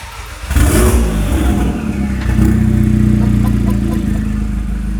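A modified Volkswagen Polo GTI engine cranks and catches with a burst, then idles roughly before revving up into a loud, throaty, sustained growl, close by.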